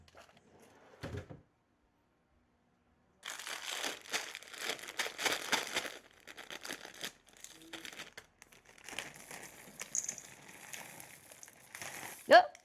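Semi-sweet chocolate chips are poured from a crinkly bag, giving bursts of plastic crinkling and rustling separated by short quiet gaps, close and fairly soft.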